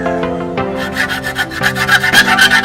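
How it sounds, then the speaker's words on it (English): Hand file rasping along the edge of a PVC recurve bow, steady back-and-forth rubbing strokes, close and alone with no speech. "So get your file and smoothen it."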